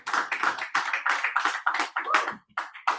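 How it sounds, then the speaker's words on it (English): Hands clap in a loose, uneven rhythm of distinct claps, close and fairly loud, during a real estate training session; it sounds like a small group or a few people clapping. "Let's give her a big round of applause."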